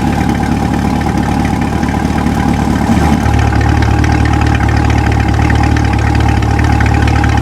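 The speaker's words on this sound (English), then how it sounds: "I'm going to open it up in just a moment so you can hear what the performance exhaust sounds like." A C8 Corvette with a performance exhaust idles with a deep, throaty exhaust rumble, steady and close, its low tone shifting slightly partway through.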